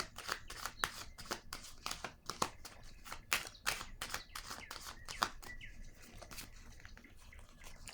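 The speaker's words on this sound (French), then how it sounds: "Je vais déposer une carte ici." A tarot card is set down on a table during a reading, amid a quick run of crisp, close paper flicks and soft slaps that thin out toward the end.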